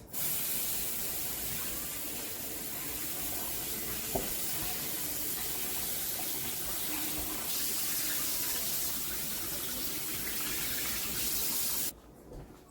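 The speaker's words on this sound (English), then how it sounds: "small chunks of meat. I'm just gonna give it a rinse." Tap water sprays steadily into a kitchen sink over small chunks of pepper steak being rinsed, a continuous close hiss that runs almost the whole time before cutting off near the end.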